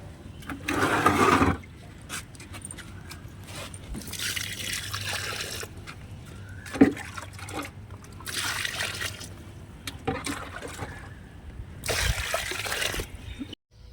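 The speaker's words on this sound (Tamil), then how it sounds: "கொஞ்சம் நிறையா தண்ணி ஊற்றிக்குவோம்" Generous amounts of water poured onto dry garden soil around freshly planted plants, coming in several separate bursts of splashing and trickling with quieter gaps between them, close up and with no voices.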